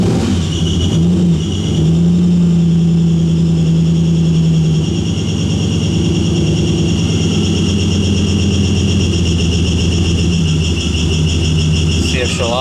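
A car engine runs steadily at a loud, close level with a low droning tone, holding near a fast idle while still cold. No starting crank is evident, and no squeak stands out clearly.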